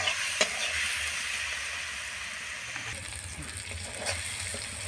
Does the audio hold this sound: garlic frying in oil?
yes